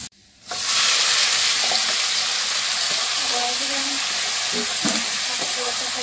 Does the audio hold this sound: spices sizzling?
yes